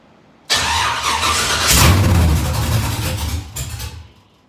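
An LS3 V8 swapped into a Chevy S10 fires up abruptly and settles into a loud, deep, rumbling idle with a brief squeal before a blip of revs, then cuts off near the end.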